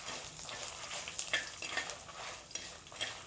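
Ginger, garlic, coriander and chillies fry in a pan for a coconut chutney powder, giving a steady close sizzle broken by several sharp stirring scrapes.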